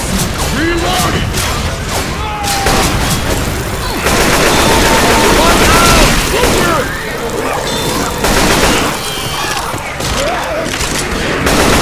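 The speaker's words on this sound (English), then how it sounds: "Now this is a big-ass machine gun." Heavy machine gun in Left 4 Dead 2 hammering out long, loud sustained bursts of rapid fire amid booms and crashes, with shouting voices in the mix.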